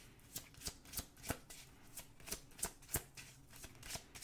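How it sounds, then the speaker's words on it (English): A deck of cards being shuffled in quick riffling bursts, a steady series of crisp, close flutters repeating about every third of a second with no voices. "We're going to pull a last card here from this deck,"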